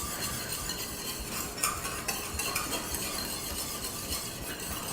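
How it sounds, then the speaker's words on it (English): A whisk works through an orange glaze with ginger as it nears a boil in a pan, giving a faint, steady scraping and clinking with a soft simmer underneath. "I'm going to start whisking that again for a few minutes"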